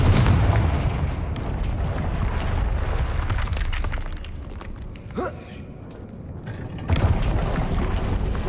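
A Confringo fire spell exploding in Hogwarts Legacy, a loud booming blast rumbling amid constant action noise, with a second surge of bangs later and a voice speaking.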